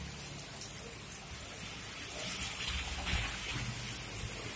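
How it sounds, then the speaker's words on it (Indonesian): Rain falls steadily outdoors as a continuous, fairly soft broadband hiss and patter, with no clear voice over it. "Mau berangkat malah hujan"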